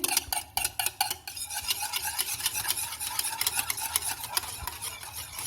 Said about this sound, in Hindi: अब हम दही को अच्छे से मिक्स करेंगे।